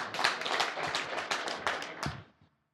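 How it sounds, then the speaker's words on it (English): Delegates at a political elective congress applauding, a steady spread of many hands clapping across the hall before the sound tapers off and stops. "Can you give me a round of applause?"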